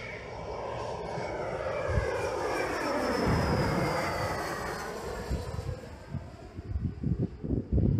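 A fixed-wing airliner lands at Krakow Balice airport, its engine roar swelling and sweeping past at moderate distance, steady and broad, then breaking into gusty wind buffets and rumbling thumps in the final seconds.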